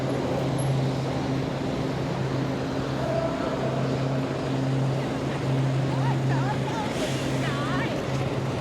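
Delivery drivers' motorcycles run through busy Seoul street traffic near Chungmuro, a steady engine drone with passing vehicles, close and continuous.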